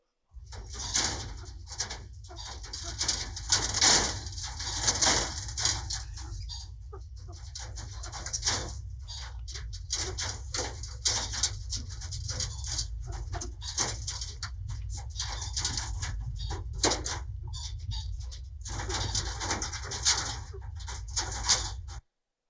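Caged game birds on a shooting-industry breeding farm, the cages open to the weather, give off a dense, constant chorus of cooing and chattering calls. Short yelps like a whimpering dog rise from it at times, and no one speaks.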